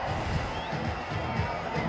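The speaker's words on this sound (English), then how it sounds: "the joy, the eruption from the crowd tells you" A stadium crowd erupts in steady, broad cheering and roar after a brilliant catch at a cricket match, India A versus Pakistan A, sustained and loud throughout without clear speech on top.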